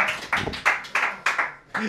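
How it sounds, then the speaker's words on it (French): Scattered clapping from a small audience at a live show in La Loupiote, a handful of distinct claps in an uneven rhythm, close and moderately loud. "on peut applaudir CSP."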